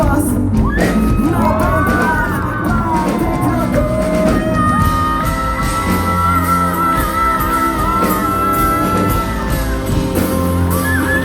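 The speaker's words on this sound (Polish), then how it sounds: "Warszawo, chciałbym, żebyście zrobili dla niego wielki hałas!" Loud concert crowd at a big outdoor show in Warsaw shouting, whooping and cheering for the drummer, a dense sustained roar over lingering music for the whole stretch.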